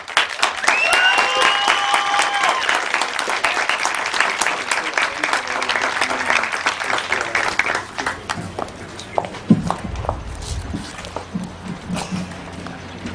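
A rally crowd at the Frankfort Freedom Rally applauds to welcome Dr. Rand Paul, with steady dense clapping and cheers that fade after about eight seconds into scattered claps, footsteps and murmurs.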